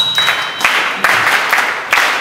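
Scattered applause from an audience for a teacher at an education conference, a steady wash of clapping lasting the whole stretch with a few sharper bursts.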